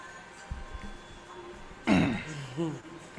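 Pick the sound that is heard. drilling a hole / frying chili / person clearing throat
person clearing throat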